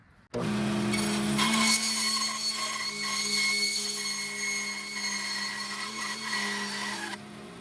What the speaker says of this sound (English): I might want to put a 3/4 inch bandsaw, 3/4 inch blade on here, but let's see if it'll cut